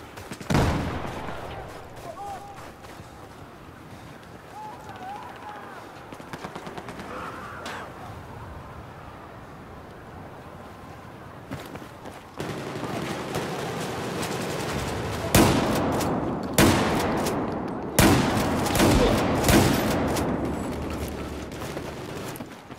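Gunfire in Battlefield 4 on PS4, a dense run of shots and bursts that grows louder and more rapid toward the end, over a continuous game background.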